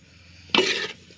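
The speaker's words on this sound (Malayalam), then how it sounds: "ഓക്കെ, എല്ലാം ഒന്ന് ഇളക്കി യോജിപ്പിക്കാം." A spoon stirs a wild mango and wild grape pickle mixture in a pan, giving a short burst of scraping and faint sizzling that lasts under half a second.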